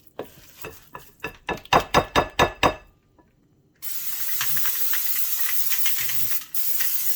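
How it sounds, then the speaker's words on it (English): Eight sharp rattling shakes of a butter cooking spray can in quick rhythm, a pause, then a long steady hiss of aerosol spray with a brief break. "Spray or rub butter in it."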